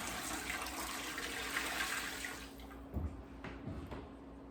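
Water runs into a pressure canner being filled for canning mushrooms, a steady rushing stream that thins and quiets partway through, with a few soft clunks near the end.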